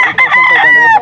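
A rooster crows at a chicken market in Angeles City, Pampanga: one loud, close, strained call lasting about a second, with the market's background noise underneath.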